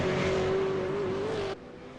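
V8 Supercar engines practicing starts in the pit lane at Road Atlanta in a racing game: a steady, loud engine drone with a held tone that cuts off abruptly near the end, leaving a quieter hum.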